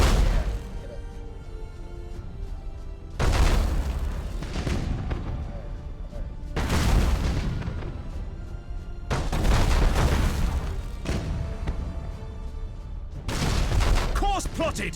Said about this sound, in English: Broadside macro cannons ready to fire on your order